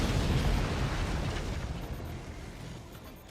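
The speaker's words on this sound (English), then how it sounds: "That was a mortar shot horizontally." Mortar shot explosion in the strategy game Forts, a heavy rumbling blast that starts loud and close and slowly decays into a long low roar, no talk over it.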